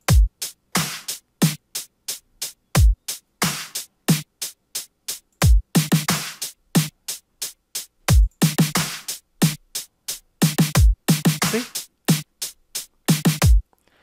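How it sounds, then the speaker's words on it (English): FL Studio drum pattern with hi-hats filling every step, a steady loop of crisp ticking hats over punchy low kicks and snaps, loud and alone. "I can fill hat on all these things and make it sound like this one."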